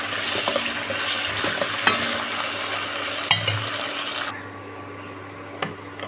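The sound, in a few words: stirring ginger garlic paste into frying masala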